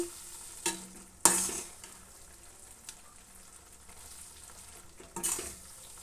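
A spoon stirs egg omelette tomato curry in a pan over a soft steady sizzle. It scrapes now and then with a few sharp clanks against the pan. The sound is close and quiet, with no talk.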